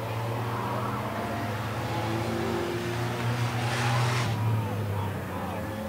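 Minivans, including a 2000 Chevy Venture and a Chevy Uplander, race around a track with a steady engine drone and a brief swell as one passes near, all under continuous race commentary.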